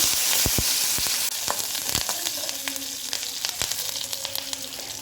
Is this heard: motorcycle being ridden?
no